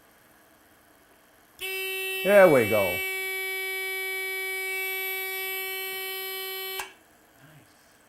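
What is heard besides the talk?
water flow detector alarm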